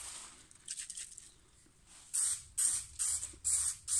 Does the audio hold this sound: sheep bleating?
no